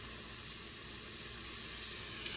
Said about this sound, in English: Do you hear it sizzling?